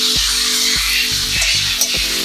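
Napolitan pasta stir-fried in a frying pan until charred, a steady loud sizzle with periodic stirring scrapes over a repeating musical backdrop.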